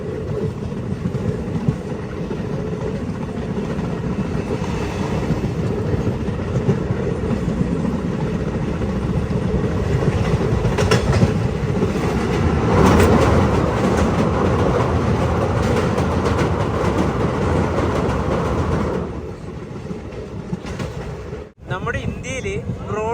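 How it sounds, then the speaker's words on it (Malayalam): A train travels through the snowy Kashmir Valley toward the next station, with a loud continuous rumble and rhythmic wheel clatter that eases off near the end, followed by a brief bump. "അടുത്തൊരു സ്റ്റേഷനിലേക്ക് ട്രെയിൻ എത്തിക്കൊണ്ടിരിക്കുകയാണ്"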